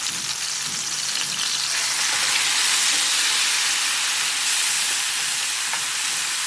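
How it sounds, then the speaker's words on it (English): Ingredients for Bogor-style noodle soup (soto mie) fry in hot oil after liquid is added, a loud, steady, hissing sizzle that runs unbroken throughout with no talk. "we're just going to fry it for a couple minutes while it becomes just a little bit more fragrant"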